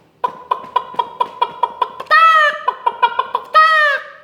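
A person's voice imitates a chicken with a rhythmic run of about a dozen short clucks, broken by two drawn-out crowing calls. The sound is close and clear, with no other talk.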